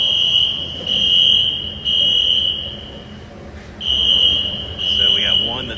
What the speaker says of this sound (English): At that time, the fire alarm goes off.